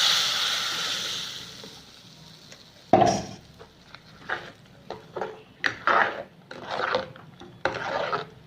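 Diluted buttermilk is poured into a pan on low heat for moor kuzhambu and stirred, giving a soft liquid splash followed by a series of scraping stirs against the pan.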